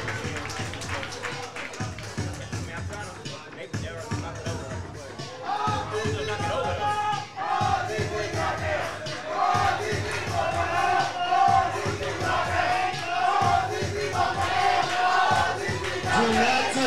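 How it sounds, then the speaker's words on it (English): Crowd at a kiki ball event clapping and cheering, a dense, lively hubbub of applause and shouts that grows louder partway through, with a voice speaking over it. "Give them a round of applause."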